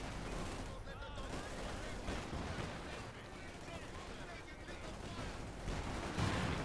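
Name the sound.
gunfire in the video game Company of Heroes 2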